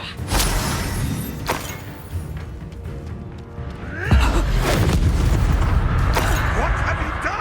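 Spell effects from the Hogwarts Legacy video game burst out as booming impacts and crackling, shattering hits with swishing sweeps, loud and layered over a continuous rumbling game soundscape.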